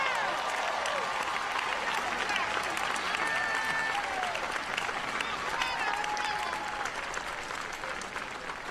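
Sustained applause from a large audience at a university commencement ceremony, a steady dense wash of clapping with some cheering and voices mixed in throughout.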